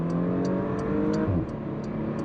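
A 2021 Porsche Macan S engine revs under manual paddle shifting of the PDK gearbox, a steady mid-pitched drone heard from inside the cabin with a brief dip as the gear changes.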